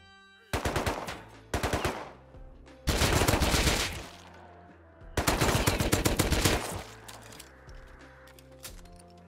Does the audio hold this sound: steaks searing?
no